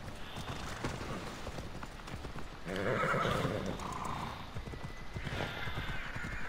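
Horse in Assassin's Creed Odyssey galloping with steady clip-clop hoofbeats, then letting out a loud whinny in the middle, with a softer neigh later on.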